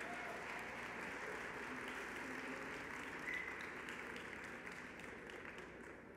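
A crowd at the LEAP 22 tech conference in Saudi Arabia gives a sustained round of applause, a dense, continuous wash of clapping that fades slightly toward the end.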